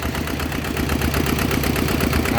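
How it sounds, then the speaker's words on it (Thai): A water pump engine pumping water out runs at a steady idle, giving a close, continuous rhythmic chugging drone with no voices. "คนแก่เขาไม่เคยเห็นเครื่องสูบน้ำ"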